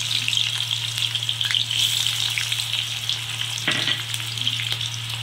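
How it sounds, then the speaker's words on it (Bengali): Onions frying in refined oil in a wok, a steady, close hiss and sizzle that runs throughout, with a brief stirring scrape near the end and a constant low hum beneath. "এবার কড়াইয়ের মধ্যে একটু রিফাইন অয়েল দিয়ে দিচ্ছি। পেঁয়াজগুলো আমি এর মধ্যে দিয়ে দিচ্ছি।"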